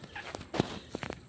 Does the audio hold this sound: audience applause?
no